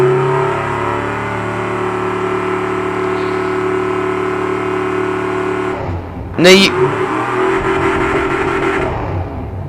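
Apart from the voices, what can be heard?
video game car engine revving at full throttle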